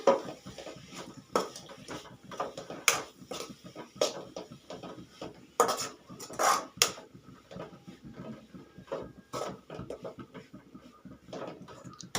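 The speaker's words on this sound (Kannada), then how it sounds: "ಇದನ್ನು ಮತ್ತೊಮ್ಮೆ ಸ್ವಲ್ಪ ಒಳ್ಳಾಡಿಸಿ" A spatula stirs beetroot palya in a pan on the stove, giving a run of light scraping and clinking taps against the metal. The taps are uneven and close, with short gaps between them.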